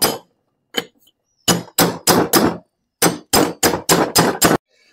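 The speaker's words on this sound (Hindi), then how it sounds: "ये हल्का सा इसको ठोकना पड़ जाता है कभी कभी" A gear hub is lightly hammered onto the gearbox shaft of a Maruti Suzuki Swift Dzire during a synchronizer ring fitting: about a dozen sharp, close metallic taps, a few spaced out and then in two quick bursts with brief gaps of silence.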